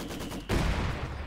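Heavy mortar fire lands on a Maxim machine gun in the Company of Heroes 2 game, a sudden dull explosive thump halfway through, following a faint patter of distant shots.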